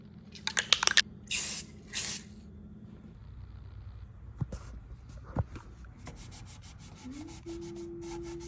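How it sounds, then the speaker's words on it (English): Spray can spraying sealer onto a nightstand during a furniture makeover, three short hissing bursts close by, followed by quiet rubbing and handling sounds. "So I sprayed a sealer on the piece"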